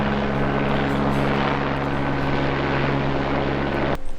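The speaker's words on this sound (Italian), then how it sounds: "Intanto sta per passare l'elicottero ancora." A helicopter passes overhead in the mountains, a loud, steady rotor drone with a strong low hum and broad whooshing that holds almost constant, then cuts off abruptly near the end.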